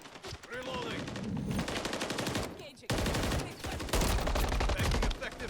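Rapid automatic gunfire in Modern Warfare 3, loud bursts of rattling shots with short pauses between them, and faint game voices mixed in.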